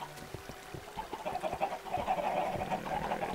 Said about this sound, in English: Alright, chickens.